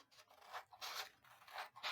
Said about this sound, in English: I'm going to cut a strip all the way